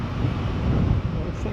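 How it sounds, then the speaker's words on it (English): Strong gusting wind along the old Roman city walls of Chester, a loud steady roar buffeting the microphone with no pause and no voices. "that wind's picked up again"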